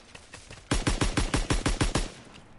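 Assault rifle fire in a World War II shooter game: a steady string of about ten loud, close, evenly spaced shots after a few fainter distant pops, with no talking.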